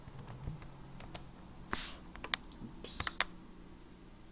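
Typing a name into a search field on a computer keyboard: a few scattered soft key clicks, faint and close, with two brief louder bursts of hissy noise partway through and a single short spoken word.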